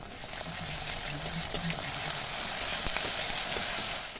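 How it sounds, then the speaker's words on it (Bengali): Spice paste hits browned onions in hot oil with a loud, continuous sizzle and crackle that holds steady throughout, close up, with a faint voice briefly underneath. "পেঁয়াজে কালার চলে এসছে, ভাজা ভাজা হয়ে গেছে। এর মধ্যে আমি বেটে রাখা মশলাটা দিয়ে দিচ্ছি।"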